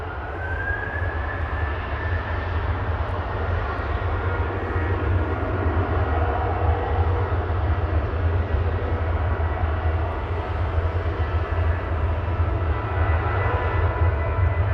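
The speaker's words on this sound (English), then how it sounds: "Swiss from Zurich A220" A Swiss Airbus A220 airliner from Zurich landing at Manchester Airport, a steady broad engine roar with a faint rising whine, holding loud and constant throughout without fading.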